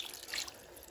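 Water splashes briefly into a pan of sautéed pork hock, a short close gush and trickle that fades within a second.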